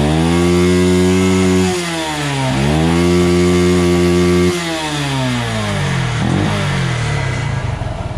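A Yamaha STX 125 motorcycle engine revving close and loud, its buzzing pitch climbing and dropping in several rises and falls before settling into a rougher idle.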